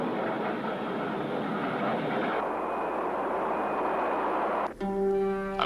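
A low-flying Boeing 727 jet airliner gives a loud, steady, broadband engine roar throughout, with no voices; near the end the tone changes as a clear humming pitch appears.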